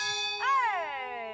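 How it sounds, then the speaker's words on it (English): A single strike of a church bell in a damaged church rings out clearly, its bright metallic tone wavering slightly before decaying into a long, sustained hum. "Let's see if we broke the bell or if it sounds good."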